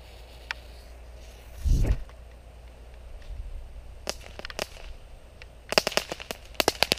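Fireworks strapped to a thrown boomerang go off outdoors: a deep thump, then scattered sharp cracks and a fast burst of pops toward the end, fairly distant with no talk.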